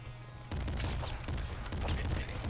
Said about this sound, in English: So if I start running as robot, we have a golden machine gun.